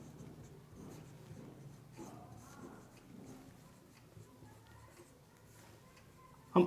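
Pen scratching on paper while an assignment is written out in black and blue ink, with soft, steady strokes and small pauses, close and quiet, ending in a brief louder knock.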